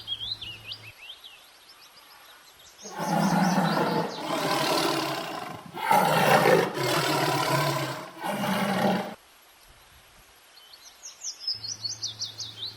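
A tiger roars in a long, loud, rumbling series of about five pulses, framed before and after by bright chirping birdsong.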